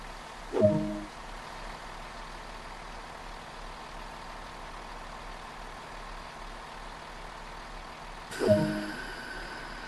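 A Class 166 diesel train pulling away in the Train Sim World video game, with a steady low engine drone and two brief clunks several seconds apart.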